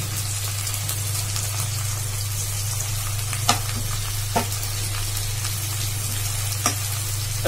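Tomato goes into onions frying in mustard oil on a stove for a river fish curry, a loud steady sizzle over a low hum, with occasional sharp spatula clicks and pops, close, with no talk.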